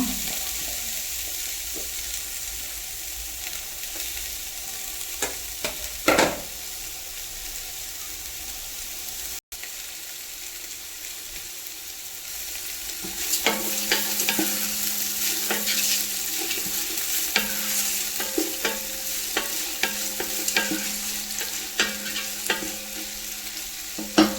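Onions frying in a pan for Thalassery dum biryani: a steady, close sizzle with stirring scrapes, briefly cutting out midway, then a busier sizzle with clinks of the utensil.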